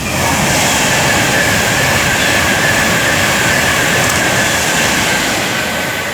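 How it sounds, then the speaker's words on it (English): A Pendolino train on the West Coast Main Line at Tamworth roars past close by, a loud, steady rushing rumble with rail hiss that holds at full strength the whole time, with no talking. "There's another Pendolino."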